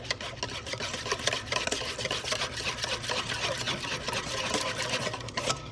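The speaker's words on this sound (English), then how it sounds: "Let's just stir this." Hot wing sauce is stirred in a pot, a continuous close rhythmic scraping and swishing with a busy, gritty texture that runs for several seconds without talking.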